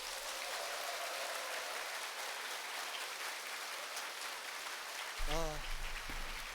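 An audience applauding at a special lecture, a dense hiss of many hands clapping at moderate distance that runs steadily for several seconds, with a brief voice breaking in near the end.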